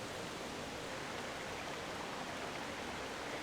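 Continuous rainfall in The Legend of Zelda: Twilight Princess HD forms a constant, full hiss of water with no breaks, no talking and no other distinct sounds.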